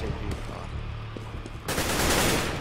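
Gunfire in the video game CS:GO: a few muffled shots early, then a loud burst of rapid automatic fire in the last second, close and dense.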